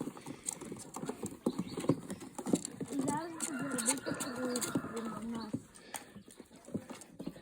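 Racing pigeons released for a 25 km flight flap and coo amid a flurry of wingbeats, with outdoor bustle and voices nearby.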